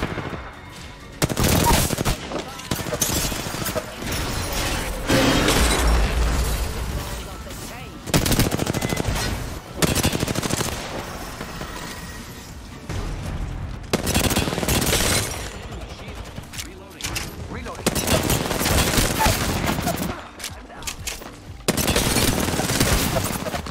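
Rapid automatic gunfire rattles in dense, loud bursts during an Apex Legends match, with brief pauses between volleys and occasional booms, all under excited talk from players.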